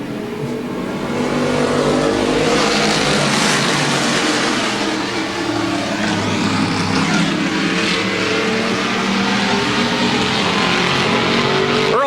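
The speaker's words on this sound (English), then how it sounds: "8 laps of sports stock racing" Stock cars race at a speedway in 1987, engines roaring loudly and continuously as a pack accelerates, with revving and a faint tire squeal, and no voices over them.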